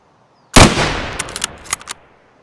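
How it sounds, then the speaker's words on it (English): A single loud gunshot from a firearm in the game Escape from Tarkov, fired as a test round at long range, with a sharp crack followed by a decaying tail and a few brief echoing reports. "We'll just fire a test round."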